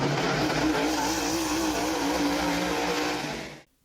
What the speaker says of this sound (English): these pavement tires actually resonated almost twice as fast as the dirt tires do, which you can hear pretty clearly in this video